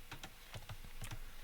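Rapid clicking of keys on a computer keyboard, several quick taps in uneven bursts, fairly quiet and close, with no voice over it.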